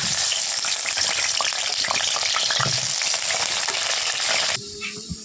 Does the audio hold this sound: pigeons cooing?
no